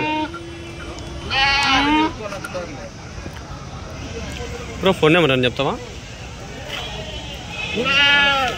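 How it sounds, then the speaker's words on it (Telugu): Goats bleating at a busy Tuesday livestock market in Kadiri, several wavering calls rising over crowd murmur, close by, while people talk nearby. "చాలా ఉండాలి మేకలు"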